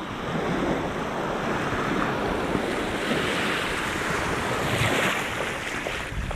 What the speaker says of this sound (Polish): Piękna, piaszczysta plaża.